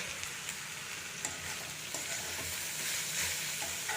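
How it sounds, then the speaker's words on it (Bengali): Radish greens frying in a little oil over low heat, seasoned with mustard seeds and dried red chillies; a steady close sizzle with light stirring scrapes and small pops throughout, no voices. "ভেজে ফেলছি একটু তেল দিয়ে কমিয়ে কমিয়ে আস্তে আস্তে"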